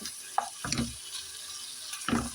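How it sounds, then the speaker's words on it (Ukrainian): Minced meat with garlic frying in a pan during preparation of a macaroni casserole, with soft sizzling and a few louder stirring scrapes at intervals; no talking. "Жарю трошечки фарш"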